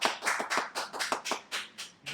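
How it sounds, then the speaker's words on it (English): A small group in a podcast studio claps to welcome a guest, about ten distinct hand-claps in a loose, uneven rhythm, close and fairly quiet, with no talking. "We clapped."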